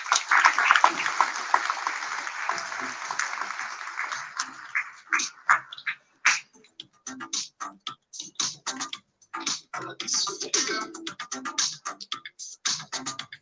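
An audience applauds after a panel conversation on digital transformation in India, a dense wash of clapping that thins into scattered individual claps and taps before fading.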